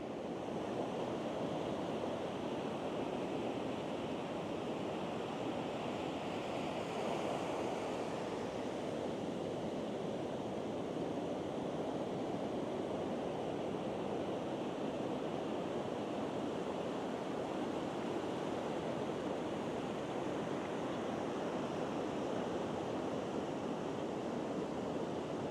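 Ocean surf rolls steadily onto Lonely Beach on Koh Chang, Thailand, a continuous broadband wash of breaking waves with a little wind, close and even throughout with no distinct voices.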